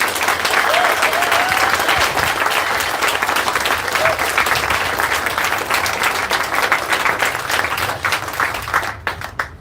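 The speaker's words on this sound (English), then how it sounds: "can I ask you to do one more round of applause for all of our speakers today?" Sustained audience applause at an outdoor groundbreaking ceremony for a river habitat project, dense steady clapping from a crowd for about nine seconds, loud and close, with faint voices underneath and a brief tail-off at the end.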